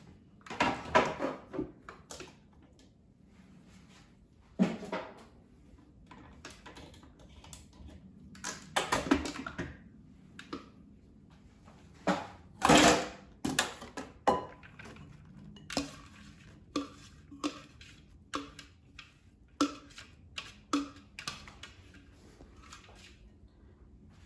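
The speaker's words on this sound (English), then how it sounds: "And now I'm going to add zucchini and mix until incorporated." Zucchini being stirred into zucchini bread batter for an air fryer loaf, heard as close, irregular clinks and scrapes of a utensil against a bowl with soft wet squishes, repeating in short bursts with brief pauses and no talking.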